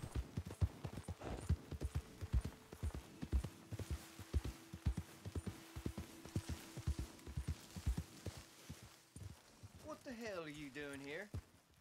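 Horse hooves clip-clop in a steady walking rhythm in Red Dead Redemption 2, fairly close and even, followed near the end by a horse's whinny.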